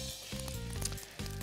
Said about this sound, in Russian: Готовится на нашей кухне, видите, шипит, правда?